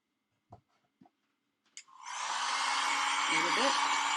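A handheld blow dryer switches on after a few soft taps and clicks, then blows a steady, loud airy whoosh while drying a small painted pig figure, with a brief murmur of a voice under the hum.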